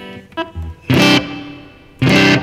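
Electric guitar played through a Line 6 Pod Go multi-effects unit with spring reverb engaged, giving a couple of loud, distorted strummed chords. Each chord rings out with a reverb tail, and a few quieter notes come before them.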